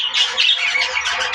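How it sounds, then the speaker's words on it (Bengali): A pair of lovebirds squawking up close, shrill continuous chatter with no pauses. "এই যে এক জোড়া পাখি দেখছেন,"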